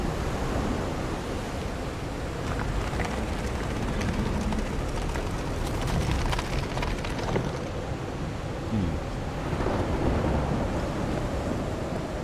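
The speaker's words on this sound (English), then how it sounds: "I used to cover myself with the sheets to not listen to the noise of thunder." A thunderstorm in the video game Call of the Sea at a shipwreck camp, heard as a steady roar of wind and rain with surging waves, swelling and easing over a dozen seconds, no one talking.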